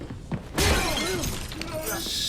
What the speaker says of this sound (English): Lots of glass smashing.